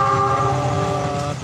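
A train passes close by on a railway with a loud continuous rumble and a sustained horn-like tone over the rolling noise.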